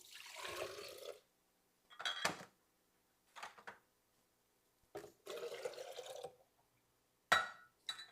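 Four cups of water are poured for a supper recipe, heard as several separate splashing bursts of filling liquid, each a second or so long with pauses between, close and fairly soft with no talking.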